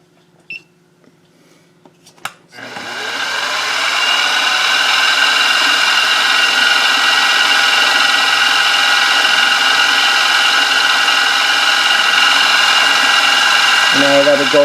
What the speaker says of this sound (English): okay, let's get this drilled